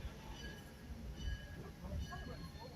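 A heritage passenger train rolls along an early rail line near Chattanooga, giving a low, steady rumble with faint wheel squeals and no voices.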